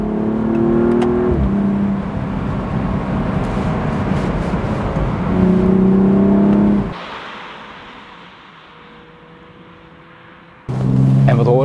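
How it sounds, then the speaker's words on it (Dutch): BMW M235i convertible with the N55 engine, driven with the roof down, its exhaust roaring loudly as it accelerates through rising revs, a short gear-change break and a lift-off that eases into a quieter cruise before the roar returns. "brullen uit die twee vuistdikke stortkokers vanuit laten onder de achterbum vandaan"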